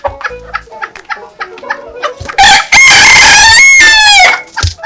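A rooster crows loudly and close by in one long, drawn-out call, preceded by softer clucks and scattered bird noises.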